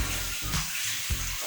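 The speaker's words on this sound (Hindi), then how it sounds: "अब मैं इन सब चीज़ों को अच्छे से कर दूँगी मिक्स" Ingredients are stirred with half a cup of water for naan dough, giving a close, wet hiss broken by soft rhythmic scraping and sloshing strokes in the bowl.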